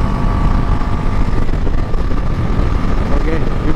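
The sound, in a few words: Bajaj NS400z motorcycle being ridden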